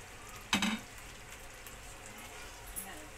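Masala for butter chicken frying in oil in a pan, a steady soft sizzle broken by a sharp scrape of stirring, with someone talking over it.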